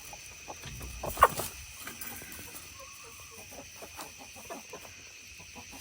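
Olive egger hens cluck softly inside a coop, giving scattered low clucks with one sharper squawk early on, all faint and set against steady background hum.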